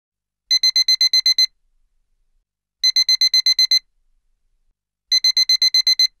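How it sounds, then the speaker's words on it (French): Bedside alarm clock ringing in three bursts of rapid, shrill electronic beeps, about seven quick pulses each, separated by short silences, loud and close with nothing else heard. "Et voilà, il sonne. Une fois de plus, comme tous les jours, mon réveil me réveille."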